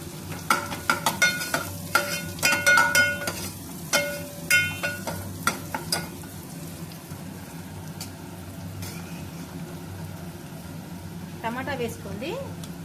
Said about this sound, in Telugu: ఇప్పుడు మనం దంచుకున్నాం కదా ఎల్లిపాయ జీరా, ఇది వేసుకొని కలుపుతుంది